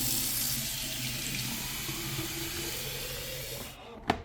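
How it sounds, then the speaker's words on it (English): Water runs steadily into the clean water tank of a Narwal S20 Pro vacuum mop, a continuous close hiss of filling that stops abruptly near the end, followed by a brief clunk. "You first fill up the clean water compartment."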